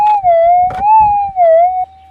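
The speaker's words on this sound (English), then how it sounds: "I'll bring the detector in and show you to listen to that." Coiltek metal detector sounding a steady, loud warbling target tone over gold in a hard-rock underground tunnel mine, wavering in pitch for about two seconds with faint scraping behind it.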